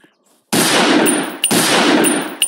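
Two loud, close gunshots from the first gun in a homemade first-person shooter game, each a harsh noisy crack with a metallic clang, following a short near-silent pause.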